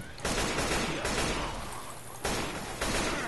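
Bursts of rapid gunfire from Left 4 Dead 2, loud and dense, with a dense volley starting early, a short lull, then fresh salvos near the end, all fairly close with no talk over them.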